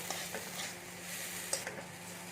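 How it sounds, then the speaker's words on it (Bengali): Grated ginger and green chili frying in a pan, a soft steady sizzle with faint stirring scrapes, quiet and close with no talk. "আমি একটু ভেজে নিচ্ছি যাতে আদা থেকে কাঁচা গন্ধটা চলে যায়"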